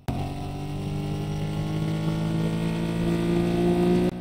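A car engine in the Dealer Simulator video game revs steadily with a smooth, rising mid-pitched drone that holds for about four seconds before cutting off abruptly.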